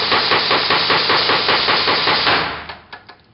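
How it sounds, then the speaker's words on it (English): A foundry molding machine jolts sand into a flask, making a loud, close, rapid pneumatic hammering with hissing air that runs steadily, then slows into a few separate thumps as it stops. "you hit this right lever down here with your knee and let this flask float up"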